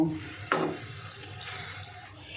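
A spoon stirs turmeric and cumin powder into a papaya mixture, giving one soft scrape near the start and then a faint, steady sizzle with light clinks.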